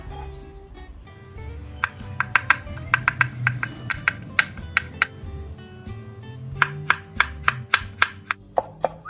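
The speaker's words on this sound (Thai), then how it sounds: "หลังจากนั้นเราก็มาหั่นผักชีกันนะคะ" Fresh coriander is chopped with a knife on a board while making a tuna cheese sandwich, a close run of quick, sharp cuts in uneven bursts with brief pauses between.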